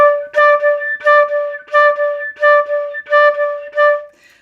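Flute repeating one pitch in a swung jazz pattern, long-short note pairs with the shorter second note accented, about eight notes in a lilting uneven rhythm, clear and close with no voices.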